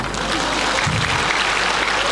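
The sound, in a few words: applause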